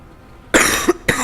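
A character coughing in the video game Prototype after contracting a virus: two sharp, close, loud coughs in quick succession against quiet background.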